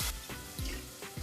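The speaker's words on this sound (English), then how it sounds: "Okay, we'll pour some water." Water splashes and pours into a cooking pan in short bursts, close by, with a running, tap-like gush and a few drips in between.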